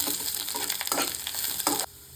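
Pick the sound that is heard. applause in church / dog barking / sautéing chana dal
sautéing chana dal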